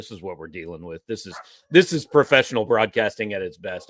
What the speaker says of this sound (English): I've now got both dogs going nuts